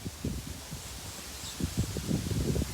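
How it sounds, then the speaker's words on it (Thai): Strong wind gusts across an open rice field, rumbling and buffeting the microphone in uneven bursts with rustling, growing louder toward the end, and no talking. "เสียงลมแรงมากเลยนะคะ"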